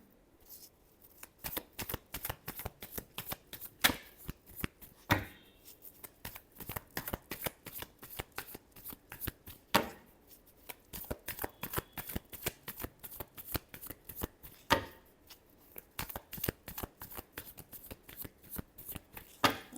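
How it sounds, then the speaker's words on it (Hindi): Tarot cards shuffled by hand in repeated rapid riffling bursts with brief pauses between, close and crisp throughout, with no talking. "Last shuffle."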